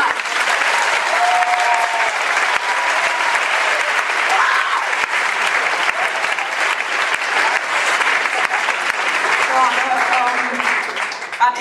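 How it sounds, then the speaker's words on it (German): Frenetic, thunderous audience applause greets Marsha Richarz at a stage show, a loud sustained wash of many hands clapping with scattered cheers and whoops riding on top for the whole stretch. "bitte einen besonders donnernden, lautstarken, frenetischen Applaus für Marsha Richards aus Mundart"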